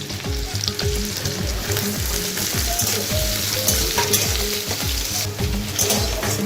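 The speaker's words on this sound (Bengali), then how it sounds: "ফোড়নের গোটা গরম মশলা শুকনো লঙ্কা তেজপাতা আর কুচনো রসুন লঙ্কা দিয়ে ভেজে নিলাম আর পেঁয়াজটাও দিয়ে দিলাম" Whole garam masala, dry chili, bay leaf, chopped garlic and onion fry in hot oil with a loud, steady sizzle and repeated stirring scrapes, close up and without talk.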